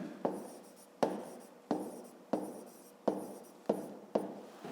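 Pen strokes on paper during a fifth-grade maths exercise, a series of about seven short scratchy bursts at a steady rhythm, close and quiet.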